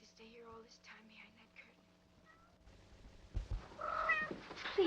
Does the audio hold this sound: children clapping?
no